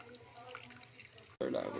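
Water is poured into a cooking pot while a mud crab dish is prepared, a short burst of splashing liquid that comes after a quieter stretch of kitchen noise.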